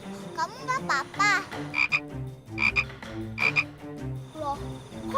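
Frog croaking in a cartoon setting, a series of loud, close, rhythmic croaks and warbling calls repeating throughout, with bright chirping accents among them and no talk.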